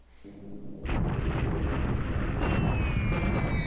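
Light bombers attack enemy troops in the mountains in War in the Pacific, and a deep rumble of explosions starts up after a quiet moment, then rolls on steadily with a brief whistling tone near the end.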